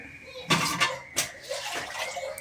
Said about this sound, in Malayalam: ഇട്ട് വെള്ളം ഒഴിക്കുക